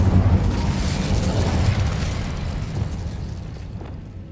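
Incendio fire spell cast in Hogwarts Legacy, a loud low rumbling whoosh of flame that bursts at the start and then slowly fades away.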